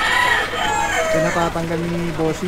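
Chickens caged on a city sidewalk: a rooster crows loudly and close with a falling, drawn-out call, while someone speaks over the street noise.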